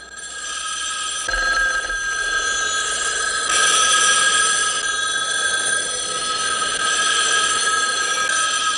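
Telephone bell ringing steadily and loudly in the 1971 film The Omega Man, its sustained electric ring running unbroken for several seconds over a constant background hum.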